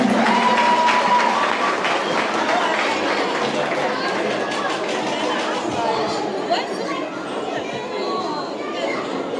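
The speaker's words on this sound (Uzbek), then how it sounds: "Samira Maxtum, olqishlaymiz." Sustained audience applause at a Navruz celebration in Hamburg, Germany, dense clapping mixed with crowd chatter and a few voices, steady and loud throughout.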